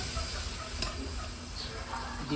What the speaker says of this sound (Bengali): দিয়ে দেবো কেটে রাখা টমাটো।